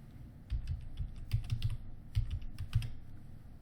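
Someone types a username on a computer keyboard, a close, quick run of crisp key clicks in irregular bursts with brief pauses between them.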